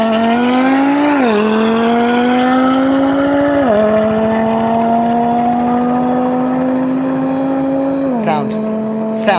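Nardo Gray Audi TT RS with a five-cylinder engine on sticky tires, running hard down an airstrip: a loud, steady engine drone rising through several gear shifts, close and continuous.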